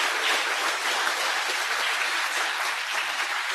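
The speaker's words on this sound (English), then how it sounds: "Another hand of applause, please." Steady, moderately loud audience applause at a team event in a Google space, continuous dense clapping with no break.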